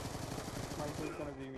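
Rapid automatic gunfire from the Black Ops 2 video game, a dense burst of rattling shots over a busy game mix, with a voice talking partway through.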